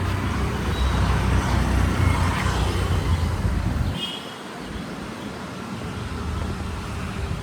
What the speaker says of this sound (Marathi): ही अनिलची मस्त गाडी आहे